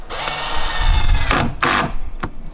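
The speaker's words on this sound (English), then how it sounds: "Drive the screw head until it's just below the surface." Power drill driving a deck screw into pressure-treated lumber, a close whirring motor that rises and strains as the screw bites, followed by short clicking bursts.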